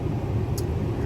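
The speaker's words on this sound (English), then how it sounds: "I'm sorry if you guys hear my AC blowing really loud" A truck's air conditioner blows hard inside the cab on a hot day, a loud continuous broadband rush of air without a break.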